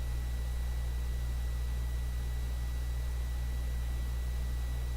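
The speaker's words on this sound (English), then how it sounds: "It's probably my furnace that's actually on and blowing air." A home furnace runs steadily, blowing air with a constant low hum and even broadband hiss, unbroken and without talk.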